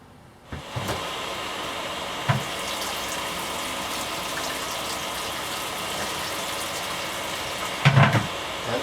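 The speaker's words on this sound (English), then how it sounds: "I'll sparge with clean water until I've got the quantity that I'm after." Clean water runs steadily into a grain bed during beer brewing, a continuous rushing pour with a few knocks and clunks, alone without talk.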